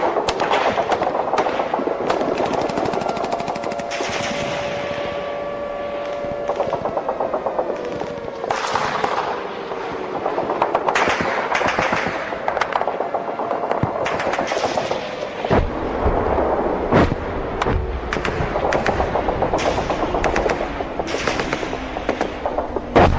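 M45 machine gun fire at a Normandy beach clatters in rapid repeated bursts, loud and sharp, over a low droning background tone with no speech.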